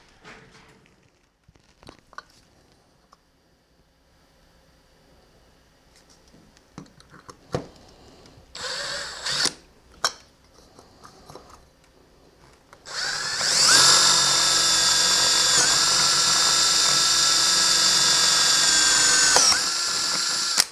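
A power drill drives an M3 x 8 screw through two plastic pieces of a blaster kit: scattered handling clicks, then a loud steady whirring run of about six seconds that stops abruptly.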